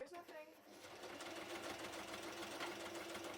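A sewing machine stitches dress pieces together, starting up after a brief pause and settling into a steady, fast mechanical whir with a faint voice near the beginning.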